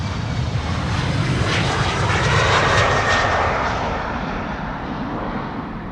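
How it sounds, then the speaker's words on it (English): KLM Embraer 190 jet departing Amsterdam Schiphol for Inverness, its engine roar building to a loud peak midway and then easing off slightly, continuous and close, with no voices. "KLM Embraer 190 to Inverness in Scotland"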